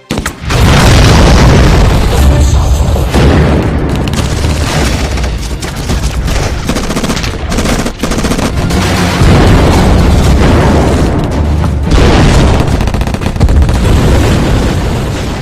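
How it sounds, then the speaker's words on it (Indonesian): Enemy oil drum exploding after being hit by sniper fire in an action film, a loud, sustained booming blast with heavy low rumble and crackling debris filling the whole stretch without speech. "Mereka membidik ke arah drum minyak milik musuh, lalu dengan segera tim sniper menghancurkan drum tersebut."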